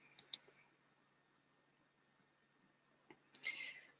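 Sharp clicks of a computer mouse in a quiet room: two quick clicks near the start, then another pair of clicks later followed by a brief rustle, all faint and close.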